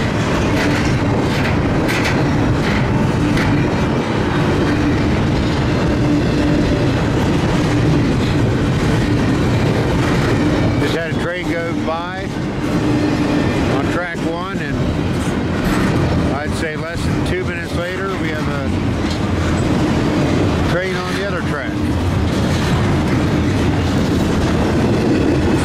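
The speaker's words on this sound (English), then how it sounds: "An auto rack, a tanker train, and now an intermodal." A long intermodal freight train rolls steadily past close by at a road crossing, wheels clattering and rumbling continuously, with occasional metallic squeals.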